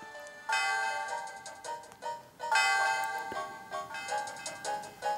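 A bell chime from the Pokémon White video game rings out in a bright, melodic sequence of tones, struck repeatedly in clusters and left to fade away, with no talking over it.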